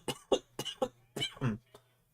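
A series of close, harsh coughs, about seven in quick succession, some grouped in pairs, with short gaps between.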